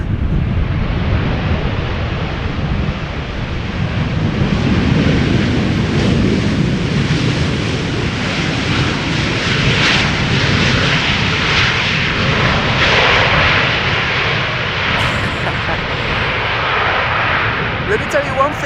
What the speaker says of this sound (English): Transavia pilots would never dare use those reversers so loudly, so long